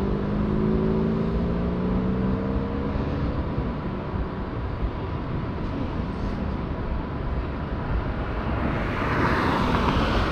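A Monster Energy truck passes on a road beside a gravel bike, a loud, close whooshing roar of engine and tyres that holds steady, then shifts as it goes by.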